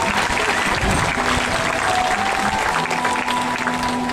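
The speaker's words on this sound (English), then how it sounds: "Give her a clap." An audience claps steadily at a seal show, a sustained wash of applause with no one speaking over it.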